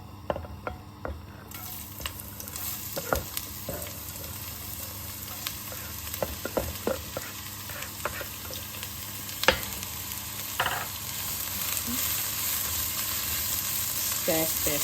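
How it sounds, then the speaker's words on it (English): Onions fry in a pan for pumpkin soup, hissing steadily and close by, with scattered clicks and scrapes from stirring and no voices. "We're just going to fry the onions so that it's all nice and soft."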